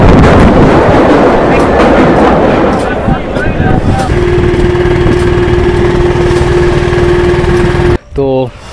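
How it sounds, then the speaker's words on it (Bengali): A Hasnabad local train, number 30321, pulls into platform 1 at Kazipara station with a loud, rushing rumble of wheels. A steady whining tone follows and a sharp clatter comes at the end, with a voice talking over it. "ট্রেন নাম্বার 303-21 কাজীপাড়া স্টেশনের 1 নম্বর প্ল্যাটফর্মে ঢুকছে।"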